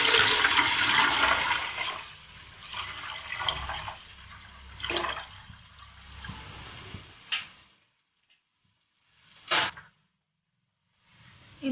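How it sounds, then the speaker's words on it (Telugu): Water pours steadily into a cooking pot set on a lit stove to boil for mushroom dum biryani, a rushing stream lasting several seconds before trailing off into a few short splashes and quiet. "స్టవ్ ఆన్ చేసుకొని ఇందులో వాటర్ పోసుకుందాం"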